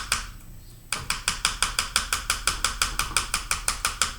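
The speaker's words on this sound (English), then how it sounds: "And you can hear the dab," A paint brush dabs paint onto a wooden fence board sign in a fast, steady rhythm of about twenty close, crisp taps after a brief quiet start, with no talking.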